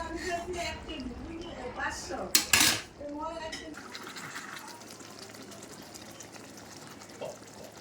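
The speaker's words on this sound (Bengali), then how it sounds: "থালার মধ্যে এবার আমরা মাছগুলোকে এক এক করে সাজিয়ে নিচ্ছি কড়াই থেকে নামিয়ে" Pieces of bata fish in a mustard and poppy seed curry are lifted from a wok and set on a plate. Metal utensils clink, with one sharp, loud clatter of the plate up close, and a voice talks during the first seconds.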